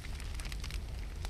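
Campfire crackling and burning in the survival game The Forest, a steady low roar with scattered sharp pops and snaps throughout, close and fairly quiet, with no talking over it.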